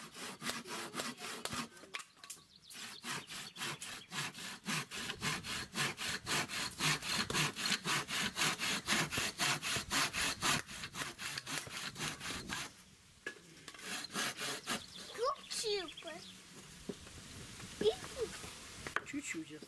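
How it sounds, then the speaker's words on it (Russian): Wood is cut with a hand saw in quick, rhythmic back-and-forth strokes, loud and close, pausing briefly and then resuming, while people talk quietly in the background. "Давай, пили."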